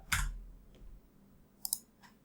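Two or three short bursts of computer keyboard typing, crisp near clicks separated by quiet pauses, with no voices.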